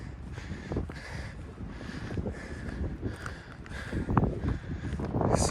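Strong wind gusting outdoors across open landscape, a steady broadband rush with louder buffets toward the end, buffeting the microphone continuously with no voices.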